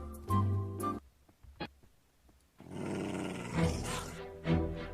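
A modded dog in Minecraft growls in short rough bursts, first brief and loud, then a longer rumbling growl after a pause, all close and with no talk over it.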